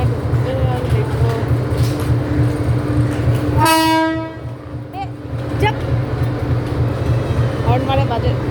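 The Sealdah express train rolls in with a heavy rumble and gives one long, loud, tonal horn blast midway, followed by shorter fainter toots, with people talking nearby.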